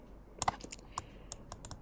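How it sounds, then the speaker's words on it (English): Sharp computer keyboard key presses click at an irregular pace, several distinct taps close by and fairly quiet, with no talking. "I'm going to click on L on my keyboard and just drag"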